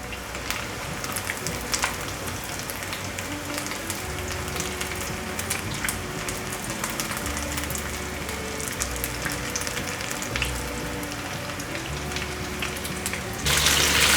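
Luffa pieces deep-frying in hot oil, a dense continuous crackling sizzle like steady rain that holds evenly throughout and grows slightly louder at the very end, with no talking.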